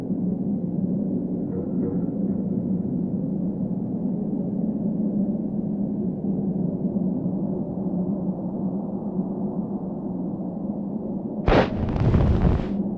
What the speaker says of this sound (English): Wow, what an explosion! It appears that it even triggered a small avalanche